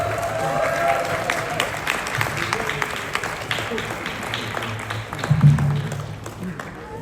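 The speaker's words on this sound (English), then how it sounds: "can we please give a round of applause for our next honoree" An audience at a Lunar New Year celebration in Queens, New York, applauds an honoree, the Executive Director of the YWCA of Queens, with steady, dense clapping throughout, murmured voices and a few cheers mixed in.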